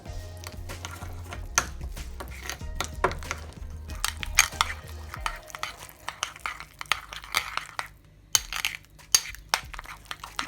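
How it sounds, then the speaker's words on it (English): Garlic, cheese and crushed chilies are mixed in a bowl with a utensil, giving close, irregular scraping, clinking and soft squishing sounds with scattered sharper taps. "and then some crushed chilies. So I'm going to mix them up."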